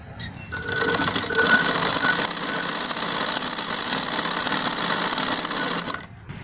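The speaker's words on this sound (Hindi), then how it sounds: "ये देखिए एकदम इतने पतले कपड़े पे एकदम सही सिलाई, कोई गांठिया नहीं है" Sewing machine stitching thin cloth with a fast, steady mechanical whir and rattle that runs continuously for about five seconds, then stops.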